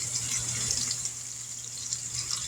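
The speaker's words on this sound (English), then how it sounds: "Don't you just love that sizzling sound?" A steady hiss and crackle of meat browning in a hot skillet for a pot roast, constant and close, with no voices over it.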